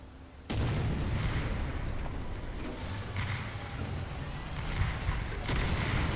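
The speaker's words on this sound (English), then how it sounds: "They've got artillery coming in." Artillery fire in the War Thunder tank game, with an AC4 Thunderbolt medium tank in play, arrives as a sudden loud boom followed by sustained rumbling battle noise and further muffled blasts, with no talking.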